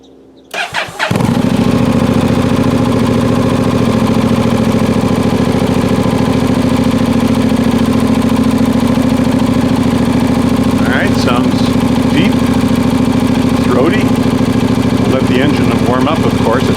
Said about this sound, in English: First start with the new muffler, and you can hear it and watch it.